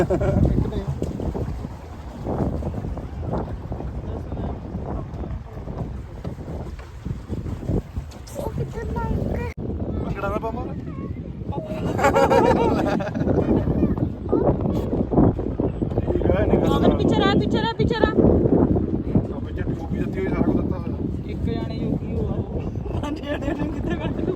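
Strong wind buffets the microphone in gusty, roaring waves while people walk along the shore of Lake Endine in Italy, with voices talking over the steady blustery noise.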